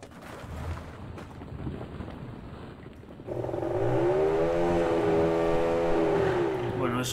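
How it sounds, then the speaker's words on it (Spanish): A motorbike engine in the survival video game The Forest starts after a quieter, rustling stretch, then drones loudly with its pitch sweeping up and down as it revs. "eso es una moto. Imagino que la estaréis escuchando."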